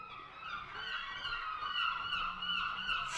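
An eagle's call rings out as a sound effect in a storytelling piece, a continuous honking, slightly wavering cry lasting a few seconds at moderate volume with no voices.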